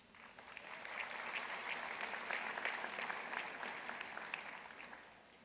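Applause from the audience at an undergraduate commencement ceremony for American Public University System, a broad, distant crowd clapping that swells, holds steady and fades at the end.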